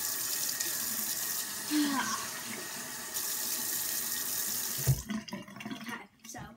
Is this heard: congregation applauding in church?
no